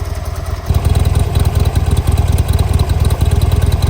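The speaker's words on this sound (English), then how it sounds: "It has a nice V-twin sound, but it's not overkill." A Buell XB12R V-twin motorcycle engine with stock exhaust idles close by with a deep, loping, uneven pulse, steady and loud after a brief quieter start.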